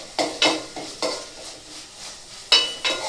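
Green chillies sautéing in a pan for chicken curry: rhythmic scraping strokes of a spatula against the pan, roughly seven or eight of them, over a soft, low sizzle.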